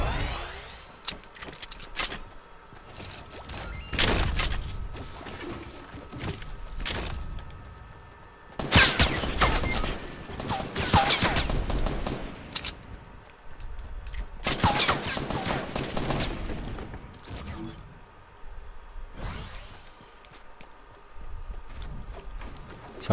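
A grenade launcher fires repeatedly in Fortnite. Loud booming bursts come in several clusters across the stretch, separated by quieter gaps of game ambience and small clinks, with no voices.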